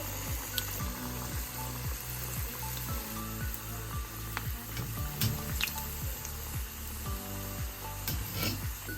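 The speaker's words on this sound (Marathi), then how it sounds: "त्यात आपण करंजी तळायला घेऊया." Karanji pastries fry in hot oil, a steady busy sizzle and bubbling that runs throughout, close and fairly loud with no voices.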